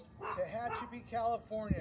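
A dog barks and yips a few times in the background of a podcast recording while someone talks over it, the barks short and somewhat distant, with a louder bark near the end.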